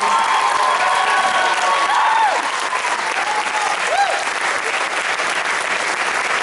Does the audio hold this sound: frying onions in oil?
no